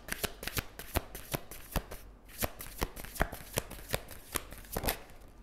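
Tarot cards are shuffled close by in quick, rhythmic riffles and slaps, quiet and alone, with a brief pause partway through.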